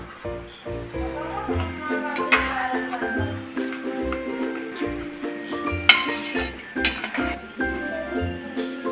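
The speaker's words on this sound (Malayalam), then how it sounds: "ഇനി ഇതിലേക്ക് ഏലക്ക പൊടിച്ചത് കൂടി മിക്സ് ചെയ്ത് കൊടുക്കാം. നന്നായി ഇളക്കി കൊടുക്കാം." Rava kesari with cardamom powder is stirred in a pan, a spoon clinking and scraping against the metal in an uneven rhythm, close by, with faint background noise and no clear talk.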